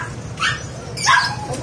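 Dogs for sale at a market bark and whimper in two short bursts, close and fairly loud, over a low background hum.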